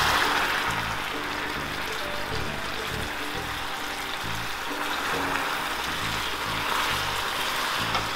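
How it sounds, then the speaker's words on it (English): Hot water is poured steadily into melted caramel in a pan, a continuous trickling splash with low bubbling and sizzling underneath, no voices. "We will add hot water."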